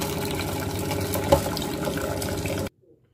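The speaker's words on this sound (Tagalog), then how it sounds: "Ang gagawin lang natin sa munggo is hugasan nating mabuti para matanggal yung mga sira" Mung beans are washed by hand in water for sprouting, producing a steady close sloshing and running-water wash with one brief louder splash, then an abrupt stop into near silence.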